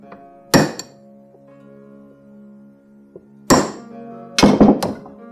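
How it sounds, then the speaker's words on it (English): A hammer drives a steel punch onto the wedge in a double bit axe handle, with one sharp metallic strike, a pause, then a quick cluster of three or four ringing blows that leave a brief hum. "get a punch, get it onto that wedge, and you can kind of bury what's left of it"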